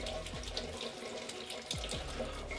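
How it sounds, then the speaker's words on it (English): Water runs steadily from a tap into a sink while fruit is rinsed under alkaline water, with a constant splashing hiss and a few soft knocks, fairly quiet and close by. "So we use kangaroo water to wash our fruits."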